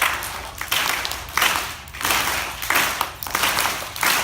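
Audience at a music performance about the Underground Railroad claps in rhythm, bursts of many hands repeating in a steady pulse about every half to three-quarters of a second, moderately loud with no voices over it.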